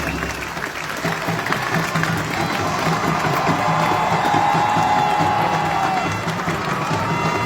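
A large crowd claps and cheers steadily for a Nigerian cultural troupe at a UK event marking Queen Elizabeth. The applause is loud and continuous, with whoops and shouts rising from the crowd all the way through.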